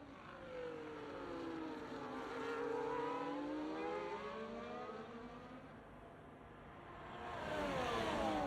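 Race car engines during an F1.5 Grand Prix lap at Qatar, a steady whine that sweeps up and down in pitch as the cars pass, moderately loud and continuous.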